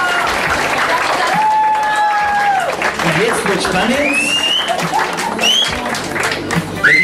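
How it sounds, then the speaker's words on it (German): Wedding guests clap loudly for the bride and groom, a continuous burst of applause mixed with cheers while a host speaks over it through a microphone. "Noch einmal so einen kräftigen Applaus."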